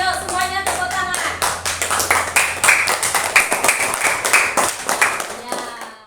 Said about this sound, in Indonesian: Yuk semuanya tepuk tangan.